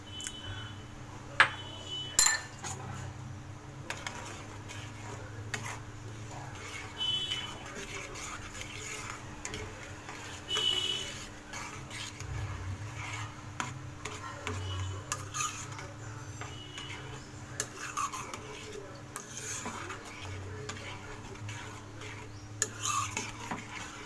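A spoon stirs raw mango jelly mixture in a pot, giving faint, irregular clinks and scrapes against the metal over a steady low hum, with occasional sharper taps.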